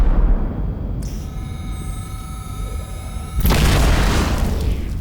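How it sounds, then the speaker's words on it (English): An enemy torpedo explosion in a science fiction audio drama: a sonar-like tonal ping sequence is cut off by a sudden loud, rumbling boom that fills the final seconds. "Incoming enemy torpedo."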